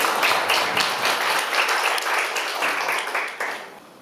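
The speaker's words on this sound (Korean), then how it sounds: "큰 박수로 맞으시기 바랍니다" An audience claps warmly to welcome the opening speaker at the launch ceremony of the Kim Dae-jung Foundation's Atlanta chapter, a steady round of many hands that gradually tapers off toward the end.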